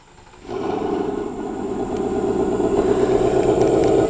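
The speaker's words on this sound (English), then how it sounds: "dual exhaust, which we can also take a listen to because with the automatic, you do get remote start" A 2024 Ford Mustang GT V8 with dual exhaust starts by remote start, catching and settling into a steady, loud, deep idle rumble that builds slightly.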